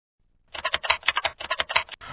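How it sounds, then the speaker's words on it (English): Fingers typing on a computer keyboard, a quick close run of light plastic key clicks in an even rhythm, with no other sound. "The keyboard makes a soft sound when you press the keys."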